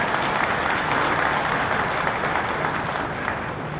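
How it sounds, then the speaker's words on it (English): Dense, loud applause from an audience at an election results event, with steady, continuous clapping that holds throughout and no speech over it. "I thought that deserves an applause."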